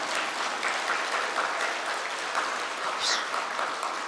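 A church congregation claps steadily for a few seconds, a dense, even patter of many hands filling the room at moderate volume.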